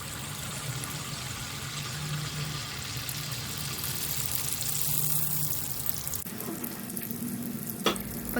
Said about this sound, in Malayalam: ഓയിൽ നല്ലപോലെ ചൂടായതിന് ശേഷം നമുക്ക് ബാറ്റർ ഒഴിച്ച് കൊടുക്കുക.